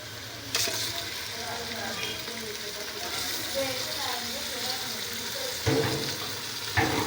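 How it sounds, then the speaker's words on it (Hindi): Chicken fries with ginger garlic paste and onion, a continuous sizzle and stirring scrape, with a few sharp clatters of a spoon against the pan and a voice speaking softly beneath. "अब इसमें चिकन डालेंगे और अच्छी तरह भूनेंगे।"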